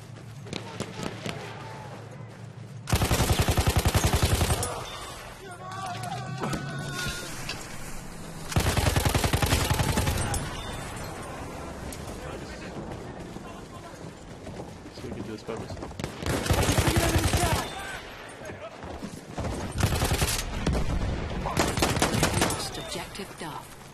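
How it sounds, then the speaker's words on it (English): Sustained machine gun fire in Battlefield 1 combat, loud bursts breaking out repeatedly between stretches of scattered gunshots and battlefield noise, with voices talking over parts of it. "Spotted a machine gun!"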